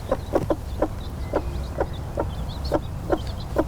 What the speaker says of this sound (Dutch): Die kuikens die zijn nu een week oud.